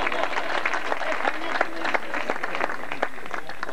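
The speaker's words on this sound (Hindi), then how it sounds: "तालियां भी बहुत ज्यादा तालियां" Audience applause at a prize-giving ceremony where a colour TV and cup are awarded, dense clapping with sharp individual claps standing out and voices mixed in.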